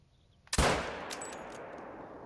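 A single loud rifle shot fired at a deer while hunting in theHunter: Call of the Wild, a sharp close crack followed by a long rolling echo that slowly fades across open terrain.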